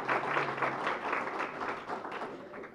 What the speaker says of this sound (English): give all of the parents and those supporters a big hand of applause